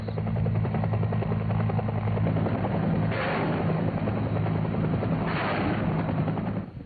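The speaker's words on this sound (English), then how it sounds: "A second set of gunships is launched to replace the first pair" UH-1 helicopter gunships fly in a 1970 Air Force tactical operation, with a loud, steady rotor thump and turbine drone that stays constant throughout, and broad swells of noise that rise and fall twice.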